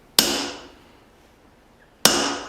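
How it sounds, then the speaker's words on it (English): Two sharp, ringing hammer blows strike a punch into a forged leaf spring cleaver, spaced about two seconds apart, each ringing and slowly decaying before the next. "Now it is time to punch the iconic hole."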